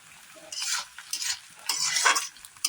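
Chow mein with spices being stirred in a pan, several rhythmic scraping strokes over a soft sizzle, close up and with no voices.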